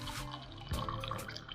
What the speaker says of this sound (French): je mets les 2 feuilles de cannelle dans ma tasse et j'ajoute de l'eau bouillante